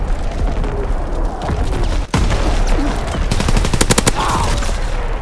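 Artillery barrage in Call of Duty: WWII, loud booming explosions and rapid bursts of gunfire layered over a dense battle din, with a sharp blast near the middle.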